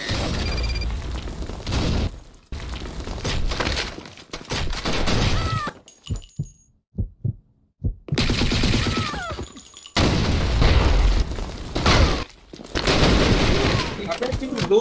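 Gunfire in the shooter BlackShot Revolution rattles in dense, loud bursts and single sharp shots, broken by short gaps, with people talking over the action.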